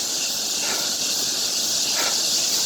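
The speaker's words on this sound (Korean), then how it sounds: "매미 소리가 요란하죠" Cicadas drone loudly and continuously in humid summer heat near a sports complex by a river, a steady high buzz with a couple of brief swells.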